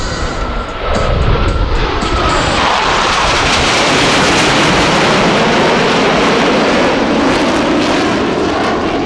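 US Navy Blue Angels jets at the 2024 Vero Beach Air Show roar past in a brake turn, a loud, sustained jet-engine blast rising sharply after the first second and staying thunderous to the end.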